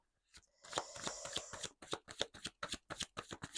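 Tarot cards are handled and then shuffled up close, with a rapid run of crisp riffling flicks in an uneven rhythm and no speech.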